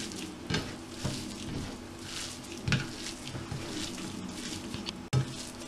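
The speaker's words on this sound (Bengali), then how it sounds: "এবার আমি এই পেঁয়াজ কুচিটার সাথে স্যালমনগুলোকে মাখিয়ে নেব" Salmon mashed together with chopped onion by hand for a fish vorta, soft wet squelching and pressing in close, irregular pulses, with a faint steady background hiss and no talking.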